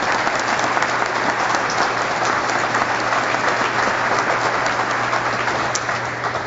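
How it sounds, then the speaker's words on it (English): A roomful of people at a health system news conference clapping steadily and loudly, a dense wash of applause holding evenly throughout with no speech. "give you a round of applause for everybody in this room that helped"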